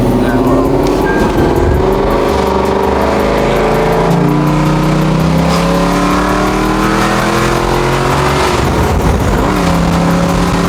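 A Dodge Charger with an SRT engine swap revving and driving, its loud engine note rising and falling continuously throughout, with a voice talking over it.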